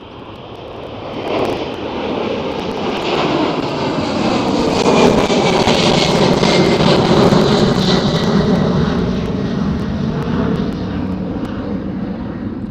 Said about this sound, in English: Proper 767 noises.